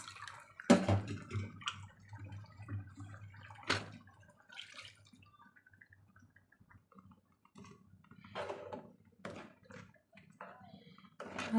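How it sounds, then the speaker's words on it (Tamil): Water poured into ground masala for a horse gram curry makes sparse splashes and drips, with a few sharper pours and quieter trickles between them, close by in a kitchen. "தேவையான அளவு தண்ணி சேர்த்திக்கலாம் ஃப்ரெண்ட்ஸ்."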